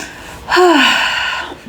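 A single deep inhaled breath, close and fairly loud, rising into a voiced, sighing gasp that lasts about a second.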